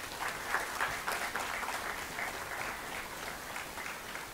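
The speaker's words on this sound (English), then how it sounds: "A huge round of applause." A lecture audience applauds steadily, many hands clapping in a dense, even patter that holds at a moderate level throughout.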